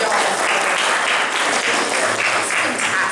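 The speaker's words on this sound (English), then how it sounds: "let's just give a round of applause for you" Applause fills the whole stretch, as a crowd at a charity event for a food pantry claps loudly and continuously in a dense, sustained wash of hands.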